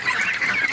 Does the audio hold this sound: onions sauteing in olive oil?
no